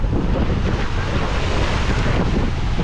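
Rough sea surf and strong wind roar together as a dense, continuous, loud wash with no breaks, heard on open water from a small fishing boat.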